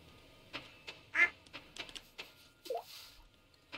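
A duck quacking in the Stardew Valley farming game, a few short quacks among soft clicking in-game sounds, modest in level with no speech.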